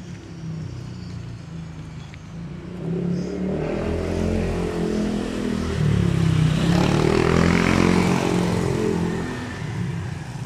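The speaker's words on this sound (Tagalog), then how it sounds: "May dami na naman sasakyan dumadaan." Cars and motorcycles pass along a road, engines swelling and fading as vehicles go by, with a louder, closer pass building toward the middle and continuous traffic rumble throughout; no talking.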